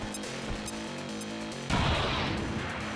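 Frag grenade in the XCOM 2 Long War of the Chosen game bursts with a sudden loud blast partway through, following steady game background noise, then leaves a fading rumble.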